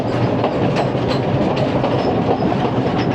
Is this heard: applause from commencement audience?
no